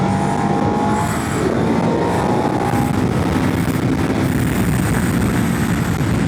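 A Ducati Multistrada V2 V-twin on its stock exhaust runs loud and close, a continuous throaty engine roar that holds steady for several seconds, with no talk over it.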